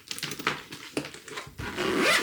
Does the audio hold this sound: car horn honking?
no